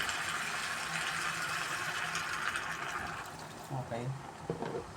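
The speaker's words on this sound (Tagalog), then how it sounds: "Kailangan ko siyang lagyan ng konting tubig." Water is poured into a pan of pancit bihon rice noodles while cooking, a steady rushing, splashing pour that then gives way to a voice speaking.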